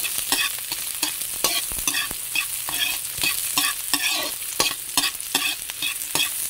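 Ginger sautéing in a pan for tinola: a continuous oily sizzle punctuated by repeated sharp scrapes and taps of a spatula against the pan at a brisk, uneven rhythm, heard alone without voices.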